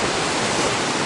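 Big Falls in Forest Falls, California, pours down as a loud, dense, unbroken roar of falling water heard up close, with no voices over it.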